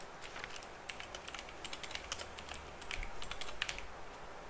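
Steady, fairly quiet clatter of computer keyboard typing during a discrete mathematics lecture, irregular clicks of keys with slightly louder bursts toward the end, no voices over it.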